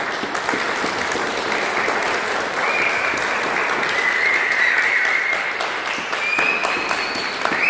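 A group of people at a boxing training session give sustained clapping for a boxer after his final pre-competition workout, a dense and steady burst of applause that lasts throughout with no talking.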